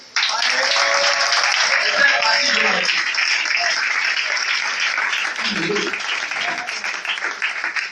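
A church congregation applauds and cheers for Jesus during a French-language sermon, with loud, dense clapping and voices that hold steady for several seconds before easing slightly toward the end.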